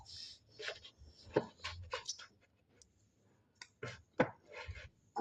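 Clay being cut by hand, soft scraping and slicing strokes with short crunchy contacts, close and fairly quiet, coming in irregular bursts with pauses between them.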